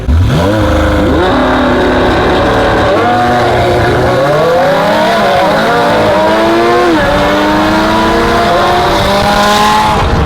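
A Lamborghini Huracan and an Acura NSX, 500 to 680 wheel horsepower, race on a street, their engines roaring loud and close, revving hard through repeated gear shifts as the pitch climbs and drops.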